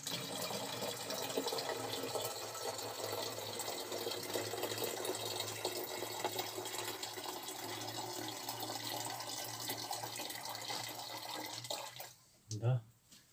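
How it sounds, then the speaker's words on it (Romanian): Water pours steadily into plastic bottles while windshield washer fluid is mixed from spirit and water, a continuous close gurgling rush that ends with a few knocks. "O să pun apă în fiecare sticlă."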